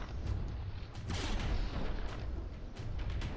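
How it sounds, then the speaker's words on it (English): Naval turret guns firing a volley of shells in the From the Depths warship game, dense rumbling booms and crackling blasts that fill the whole stretch loudly without a break. "those rear turrets both popped off with the same volley of shells"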